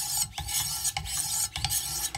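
A knife is drawn across 1000-grit stones on a Wicked Edge WE130 sharpener, giving close, even, rasping strokes in a steady rhythm, one stroke roughly every half second, with no voices.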